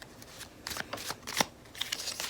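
Tarot cards shuffled by hand in quick riffling bursts, several crisp flurries of card slaps and rustles close up with brief pauses between them.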